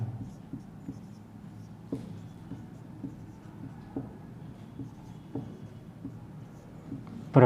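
Chalk or marker scratches across a classroom board during a Hindi-language maths lecture on finding the HCF, with soft, irregular writing strokes and taps over a quiet room hum.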